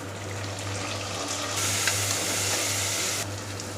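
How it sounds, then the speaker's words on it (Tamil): Onions and tomatoes fry in a pan for biryani, giving a steady close sizzle and hiss that briefly grows brighter and louder midway, over a low constant hum. "இந்த மாதிரி நல்லா கலர் சேஞ்ச் ஆகிற வரைக்கும் நல்லா வதக்கிக்கோங்க"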